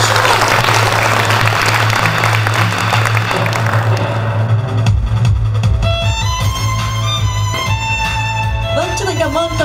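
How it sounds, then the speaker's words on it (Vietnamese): Wedding guests applauding at the ceremony, a dense burst of clapping over a low droning hum, giving way to music and a voice over the hum in the second half. "chúc mừng Đình Thương, Đỗ Hiền xin phép được bắt đầu với một tràng pháo tay thật lớn quý vị để cùng chúc mừng."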